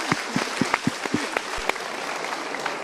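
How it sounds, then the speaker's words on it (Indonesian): A small audience at a motivational talk claps, with a few loud, close, separate claps at the start that settle into a light, scattered patter. "Oke, kita berikan tepuk tangan dulu."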